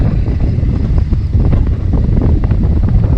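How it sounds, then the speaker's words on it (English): Wind roars and buffets the microphone while riding a dirt road as a summer storm approaches, a loud, continuous low rumble with no talking. "The wind is picking up and this is the sign of rain."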